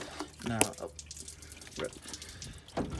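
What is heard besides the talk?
water draining out of a car during water pump repair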